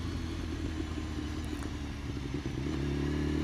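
A motorcycle rides along at steady speed, its engine a continuous low rumble mixed with wind and road noise, close and constant with no talk.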